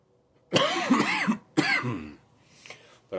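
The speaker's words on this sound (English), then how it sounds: "But I would cough like that pretty much constantly through the first half of the bowl." A pipe smoker, partway through a bowl of Old Joe Krantz tobacco, gives two close, harsh bursts of coughing and throat clearing, separated by a short pause, with quiet room tone after.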